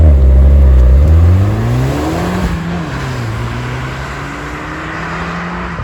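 An Abarth Punto EVO 180 hp car engine revs loudly and climbs in pitch, then settles into a steadier drone as it pulls away, with no talking.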